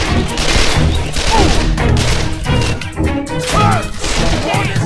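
Rapid gunfire and explosive blasts from a Call of Juarez: The Cartel shootout on Xbox 360, loud and dense, with bursts, thuds and crashes running continuously across the whole stretch.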